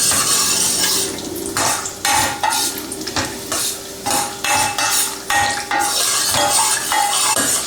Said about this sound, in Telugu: కిస్మిస్ జీడిపప్పు కలిసి వేగిపోతాయి.